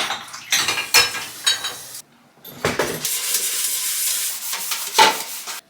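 Dishes, pots and cutlery clatter and scrape as they are loaded into a home dishwasher during kitchen cleaning, in several bursts of clinks and knocks with brief pauses between them.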